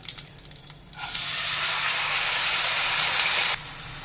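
Basmati rice with cardamom, cinnamon, cloves and a few raisins frying in a pan for zafrani pulao, a steady close hiss of sizzling that swells suddenly and holds for a few seconds before dropping away, with no talk.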